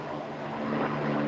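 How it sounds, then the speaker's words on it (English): A helicopter flies overhead, a steady droning rotor and engine hum that swells slightly as it passes, with no talk over it. "I don't know if you can hear the helicopter go over me right now"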